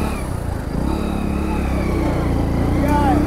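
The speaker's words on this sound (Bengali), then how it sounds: "সবাই বাইকে করে নিয়ে আসতেছে। সব প্লাটিনা বাইক।" Bajaj Platina motorcycles ride past on a hill road to Sajek Valley, their small engines droning steadily and fairly close, with a passing bike rising toward the end and a voice talking over the engine noise.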